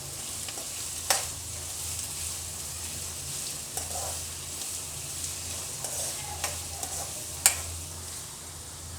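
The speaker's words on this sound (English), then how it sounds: "Before the onion gets roasted, when it settles in oil, add the ginger garlic paste." Onion fries in hot oil in a pan and gives a steady soft sizzle, with an occasional stir or tap of a utensil against the pan and no talking.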